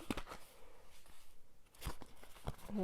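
A package of washi paper is torn and opened close by, producing faint crinkling and a few sharp papery rips against a quiet background.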